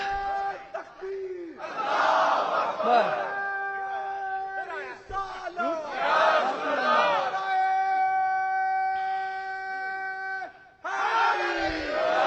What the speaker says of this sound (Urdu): ایسے سپر ڈوپر نعرے لگیں گے